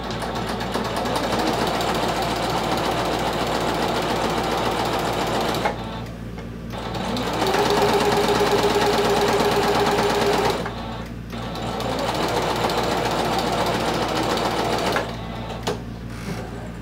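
A domestic sewing machine stitches a vinyl clutch wallet in steady, fast mechanical runs, close and loud, pausing briefly twice, with a higher whirring stretch between the breaks.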